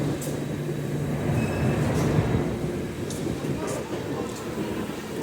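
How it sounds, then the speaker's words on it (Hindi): Passenger train 11905 Agra Cantt–Hoshiarpur rolling past nearby, a steady low rumble of cars and wheels with faint clacks running throughout, with a voice speaking over it. "हमारे सामने से जा रही है train number 11905 Agra cantt Hoshiarpur"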